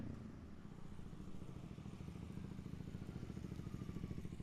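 A 2023 Honda Rebel 300 motorcycle fitted with a Coffman Thunder exhaust, a steady low throbbing engine rumble with rapid pulsing, fairly faint and distant, with no talk over it.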